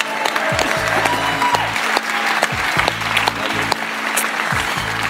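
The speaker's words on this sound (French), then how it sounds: "qu'on peut applaudir une nouvelle fois, bravo!" A studio audience on a French television show applauds a guest performer, steady clapping running through the whole stretch with some low music or rumble beneath it.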